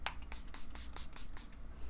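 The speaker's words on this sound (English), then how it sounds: "Setting spray, tried and true, Milani, make it last." A Milani Make It Last setting spray gives a series of about eight short, hissy bursts in a quick, fairly steady rhythm, heard close and with no talking.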